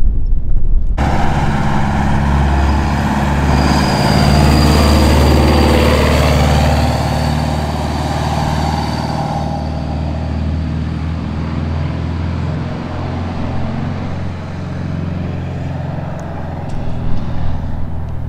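An air-cooled Porsche 930 running at the base of the Jebel Hafeet mountain climb: a loud, continuous rumbling engine close by, first revved then settling toward a steadier idle.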